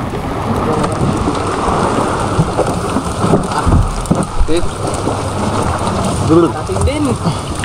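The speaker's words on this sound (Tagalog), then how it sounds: "Sobrang lakas ng ulan." Heavy, steady rain roars throughout, with low rumbles like thunder and a few indistinct voices rising near the end.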